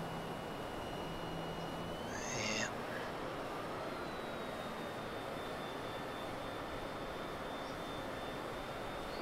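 A jet airliner's engines drone steadily in Microsoft Flight Simulator 2020 during a flight from Belmullet to Sligo, Ireland, a constant broadband roar with thin whining tones and a brief chirping blip early on, no voices over it.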